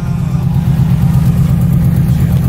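A Subaru race car warms up at a motorsport track on race day, its engine holding a steady, loud, low idle rumble with slight revving throughout, close by and without voices.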